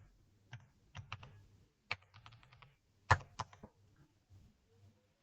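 Keys clacking on a computer keyboard, a string of crisp, close keystrokes in short bursts with quiet gaps between them.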